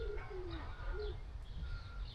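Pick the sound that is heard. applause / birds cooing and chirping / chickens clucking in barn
birds cooing and chirping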